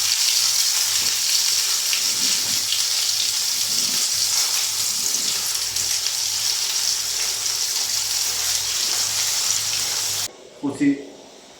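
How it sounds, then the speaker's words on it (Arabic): Fish frying in a pan gives a steady, loud sizzle that runs close and continuous, then cuts off near the end, where a few brief knocks follow. "غندوز نقلي الحوت هو الاول"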